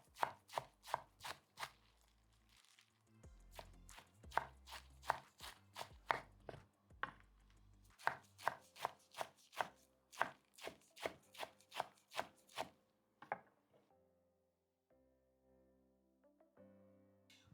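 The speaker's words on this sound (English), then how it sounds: "using a sharp knife, I'm going to finely chop my spinach" Fresh spinach being finely chopped with a sharp knife on a cutting board, a rapid run of crisp, close knocks in quick bursts with brief pauses, then a few quieter taps at the end.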